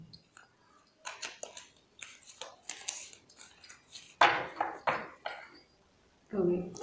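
A deck of playing cards being mixed by hand, with a series of short riffling, flicking bursts close by, interrupted by people talking.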